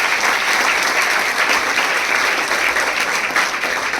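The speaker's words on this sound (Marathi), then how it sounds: "आपल्या पंतप्रधानांसाठी एकदा जोरदार टाळ्या वाजवा" An audience at an award ceremony for the poet G. H. Patil breaks into loud, sustained applause, a dense and even wash of clapping from many hands that fills the whole stretch.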